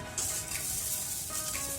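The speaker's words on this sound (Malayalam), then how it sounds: "നമുക്ക് റാഗീനെ വറുത്തെടുക്കാം" Finger millet (ragi) roasts in a hot pan with a faint, soft sizzle and light scraping stir that runs briefly and quietly throughout.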